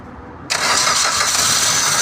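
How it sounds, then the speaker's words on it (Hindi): A car engine, started by bridging the ignition pins with a wire, cranks and catches abruptly after a brief quiet moment, then runs at a loud, steady idle. "ये देखिए गाड़ी स्टार्ट होगी।"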